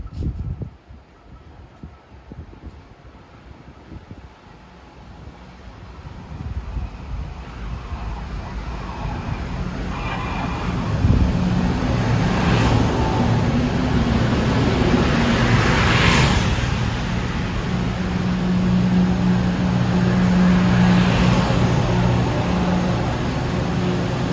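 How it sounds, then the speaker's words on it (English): A Metro-North train of M3A cars, number 764 from Croton-Harmon bound for Grand Central, approaching at Riverdale, a low roar building steadily from faint to loud, with outdoor wind and background hiss. "approaching Grand Central bound at 2:57, this train 764, Croton Harmon to Grand Central with M3As"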